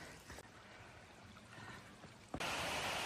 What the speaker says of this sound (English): So about to cross this stream.